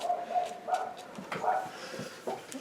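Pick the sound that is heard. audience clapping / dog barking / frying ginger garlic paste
dog barking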